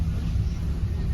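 Tractors roll past with a steady, heavy low rumble that fills the moment, close and continuous, on a day of heavy rain.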